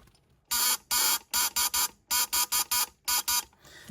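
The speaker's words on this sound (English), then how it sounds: "So that's the buzzer." Vintage 1950s Fairylite Morse signalling set buzzer tapped out in short and long pulses, close and loud, a harsh electric buzz in distinct groups separated by quiet pauses, heard alone.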